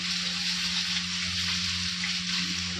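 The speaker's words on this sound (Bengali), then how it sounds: "মাছটা আমি ভেজে নিই আগে দেখো মাছগুলো ভাজা হচ্ছে" Fish fries in oil in a home kitchen, a quiet, even hiss of sizzling with a low steady hum underneath throughout.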